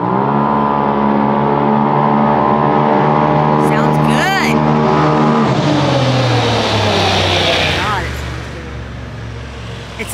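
A Turbo S Evo at stage 2 tune rumbles loud and close with a deep, steady exhaust burble that fades as it drives off, with a passing whine overhead and people talking over it.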